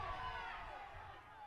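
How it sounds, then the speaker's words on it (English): Spectators at a youth rugby match between United Rugby Club and Layton Christian Academy cheer and shout together, a steady moderately distant crowd roar with voices mixed in. "You can hear the crowd."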